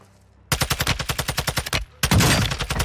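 Automatic rifle fire in Warzone 2, the TAQ-56: a loud, close burst of about a dozen rapid rhythmic shots, a brief pause, then another dense sustained burst.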